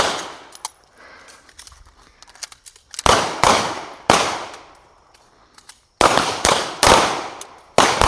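Handgun shots at a shooting training seminar ring out sharply and close, roughly seven loud cracks in two quick groups separated by short pauses, with lighter pops from other shooters earlier.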